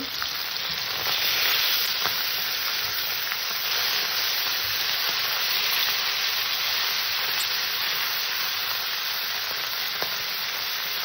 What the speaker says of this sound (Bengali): মাছ কাটাটা আমি সুন্দর ভেজে নেব